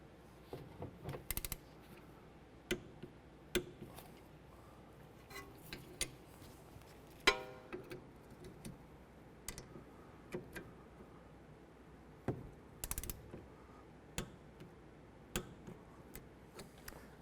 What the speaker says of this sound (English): torque these 14 millimeter bolts to 20 foot-pounds